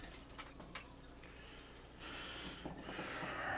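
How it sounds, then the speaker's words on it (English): Hands being rinsed under a running kitchen tap, a steady faint hiss of flowing water with light splashes that thicken toward the end, no talking. "Let me rinse my hands off."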